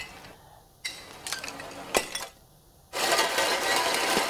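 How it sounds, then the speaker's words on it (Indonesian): Glass liquor bottles clink and clatter as Satpol PP officers destroy thousands of them at a government center in Tangerang, with sharp close impacts and a burst of crashing noise near the end. "ribuan botol minuman keras dimusnahkan petugas Satpol PP"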